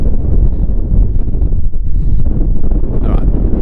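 Heavy coastal wind buffets the microphone at the northern tip of Cape York, Australia, a loud, continuous low rumble with constant gusting and no speech.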